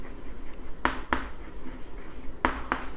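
A pen writing an example by hand during an accounting lesson: a few short, crisp scratchy strokes in two pairs, close and fairly quiet over a soft room hum.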